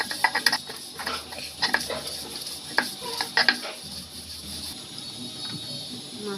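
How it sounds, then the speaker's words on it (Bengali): Dried loitta fish being ground by hand on a shil-pata stone slab, with sharp scraping and clacking strokes in an irregular rhythm over a faint hiss, close by with no talking. "ব্লেন্ডারও করা যায়, বাট আমি শিলপাটায় বেটে নিতেছি।"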